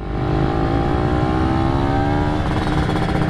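A Honda Beat motorcycle engine revs hard and close. Its buzzing pitch climbs steadily and stays loud and continuous throughout.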